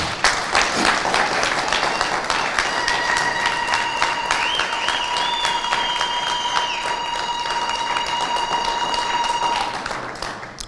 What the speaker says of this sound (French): je voudrais vous demander d'acclamer la mémoire du président Étienne Tshisekedi